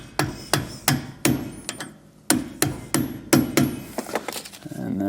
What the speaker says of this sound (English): Sometimes you got to kind of tap it out a little bit. So having a hammer or that rubber mallet can also help.